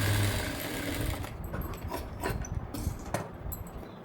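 A sewing machine stitches a strip along the neck of a blouse, running in a steady close mechanical whir with faint uneven ticks and no talking.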